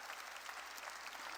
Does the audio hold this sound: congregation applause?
yes